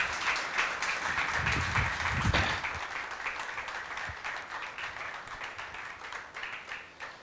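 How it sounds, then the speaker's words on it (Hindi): A Sunday worship congregation claps loudly and steadily to welcome the preacher, a thick, sustained applause that eases slightly toward the end. "तो आइए जोरदार ताली बजा करके प्रभु के दास का स्वागत करें।"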